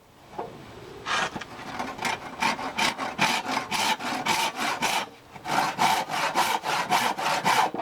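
A handsaw rasps back and forth through scrap wood in quick, rhythmic strokes, close and continuous apart from one brief pause.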